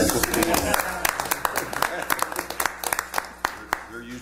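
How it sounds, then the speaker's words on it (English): Council meeting attendees give a guest pastor from Community Bible Church a round of applause, a moderate burst of clapping that thins into scattered, separate claps as it winds down, with a voice talking over it near the start. "You need a round of applause."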